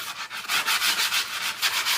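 Grip tape edges being rubbed down onto a skateboard deck, a steady rhythmic gritty scraping of repeated close strokes with no voices.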